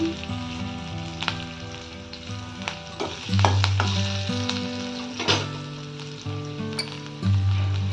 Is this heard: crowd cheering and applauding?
no